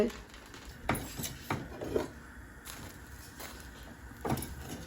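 Dough for breakfast roti is being rolled and worked in a home kitchen, giving repeated soft rasping rubs with a few light knocks of wood and utensils, close up, alone and without talk.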